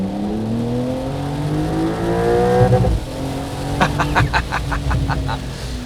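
A Porsche 911 Carrera engine revs hard toward a high-pitched scream at 7,500 rpm, then drops back and rises again through gear shifts, loud and close.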